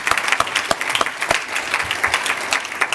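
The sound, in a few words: audience applause at gala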